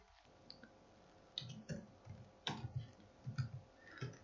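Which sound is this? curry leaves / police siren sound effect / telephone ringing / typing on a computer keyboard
typing on a computer keyboard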